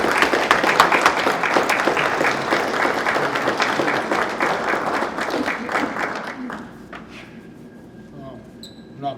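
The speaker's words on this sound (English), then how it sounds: "Give him a round of applause." A crowd at a press conference applauds the new head football coach of the Volunteer Falcons, with dense, loud clapping for about six seconds that then fades into scattered claps and room noise.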